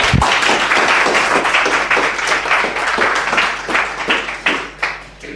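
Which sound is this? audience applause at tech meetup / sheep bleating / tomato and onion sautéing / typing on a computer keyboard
audience applause at tech meetup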